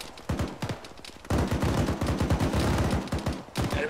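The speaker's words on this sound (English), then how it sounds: "Got a lot of small arms audio south" Small arms gunfire in a military video game rattles in dense, overlapping bursts, with a short pause before a long sustained volley of rapid shots, loud and close.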